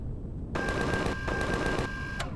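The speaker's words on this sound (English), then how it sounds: "somebody is shooting at me" Rapid burst of enemy gunfire in Empyrion Galactic Survival, a fast rattling volley lasting under two seconds, loud and close, with a steady tone running beneath it.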